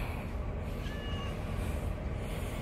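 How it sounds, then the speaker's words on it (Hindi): A cat meows on a street at night, its faint tonal cries rising around the middle of the clip over steady, noisy outdoor background rumble. "ये बिल्ली ने मुझे डरा दिया, यकीन करें।"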